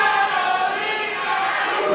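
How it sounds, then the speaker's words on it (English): Wrestling crowd at a CCW Alive event cheering for a wrestler, a steady roar of voices that stays level and moderately loud throughout the short moment. "The crowd really getting behind Carolina Cruz."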